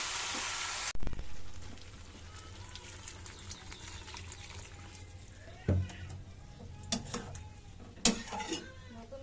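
Metal utensils clink and scrape against a pan as vegetables with spices are stirred, with a few loud clattering knocks spread over the stretch and a faint background sizzle between them.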